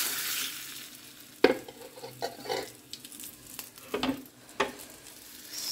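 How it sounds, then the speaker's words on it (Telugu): Hot tempering poured into rasam gives an irregular run of sizzles and crackles, with a few sharp bursts standing out over a quiet kitchen background, up close. "చారులో పోపు వేద్దాం"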